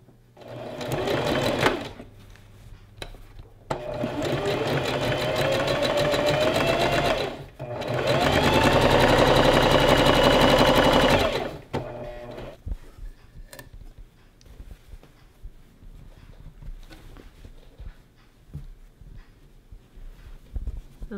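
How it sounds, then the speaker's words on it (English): Sewing machine stitching a zigzag along a dress hem in loud, steady bursts of whirring motor and rapid needle ticking, pausing between runs, then quieter handling clicks afterward. "I'm going to run a zigzag stitch all the way around just to finish it"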